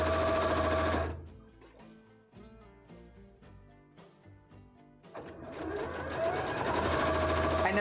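Sewing machine stitching fabric during a craft session, running loud and steady, pausing for several seconds while softer clicks and mechanism noises continue, then starting up again at full speed.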